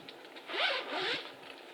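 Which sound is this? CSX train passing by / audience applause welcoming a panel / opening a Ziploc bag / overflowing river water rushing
opening a Ziploc bag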